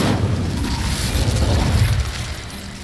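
Incendio fire spell cast in Hogwarts Legacy, a loud, dense whooshing roar of flame that holds steady for a few seconds before easing off slightly.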